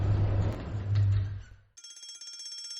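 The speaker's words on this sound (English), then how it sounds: "That's the fire alarm." A fire alarm rings in a scene from a comedy series: after a rumbling, fading mix of background noise, a shrill, continuous electronic ringing bell starts abruptly and holds steady to the end.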